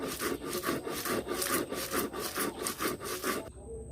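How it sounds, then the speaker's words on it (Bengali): Prawn shells are ground on a grinding stone in eight or so rhythmic rubbing strokes, close and even, before the grinding stops abruptly. No one speaks. "চিংড়ি মাছের খোসাগুলো বেটে নেব।"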